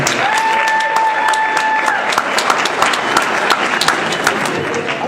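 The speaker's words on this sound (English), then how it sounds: "let's give a round of applause for him" A crowd at a Haiti Independence celebration gives a round of applause for a speaker, dense steady clapping close by that runs for several seconds, with a few voices and murmurs mixed in.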